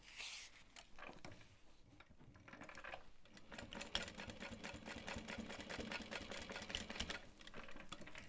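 A sewing machine top stitches a backpack, running in a steady, fast mechanical whir with rapid needle clatter throughout, close and continuous without talk.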